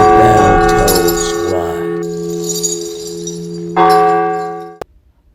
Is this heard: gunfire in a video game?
no